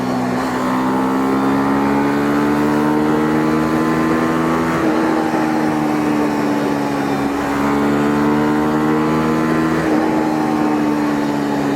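A Honda CL250 motorcycle engine runs under load while riding after a downshift, a loud, close, throbbing note that climbs steadily in pitch, breaks briefly at gear changes and then climbs again, with no talking.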